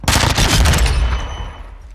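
Loud gunfire in Call of Duty Modern Warfare 2 (2022), a rapid burst of close shots with a heavy low boom that rings out and fades over about a second.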